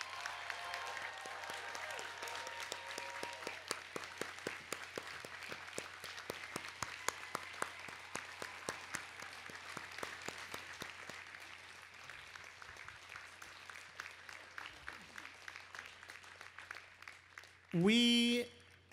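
Commencement audience applauding the faculty, a dense, sustained burst of clapping from a large crowd that fills the space and gradually thins toward the end, followed by a brief loud tone.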